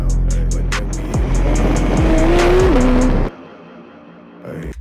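A new car on temporary transfer plates revs hard, its engine note rising and falling in loud pitch sweeps with a tire-squeal-like tone, then cuts off abruptly, leaving a quieter tail.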